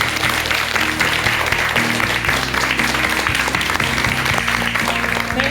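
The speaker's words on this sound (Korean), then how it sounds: "네, 그럼 큰 박수 한번 좀 부탁드립니다." A crowd applauds continuously, a dense, even clapping that fills the whole stretch, with a low tonal hum underneath.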